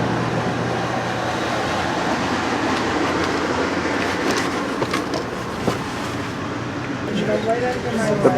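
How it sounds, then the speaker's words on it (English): Amtrak AEM-7 excursion train departing Washington Union Station, heard from inside as a steady rolling rumble with faint clicks and knocks, while people talk nearby. "Departing Washington Union Station, we departed here right on schedule as we head up to Halethorpe"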